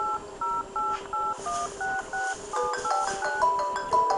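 A quick series of electronic telephone dialing tones on a TV quiz show, about a dozen short beeps in steady rhythm, each a different pitch, with faint background noise between them.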